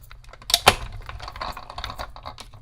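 Craft cutting machine slicing a small paper pocket envelope, giving soft, close clicks and light scratchy tapping with two sharper knocks near the start, no voices.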